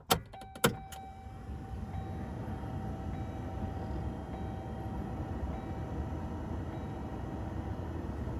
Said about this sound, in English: let's just turn the car on and see what happens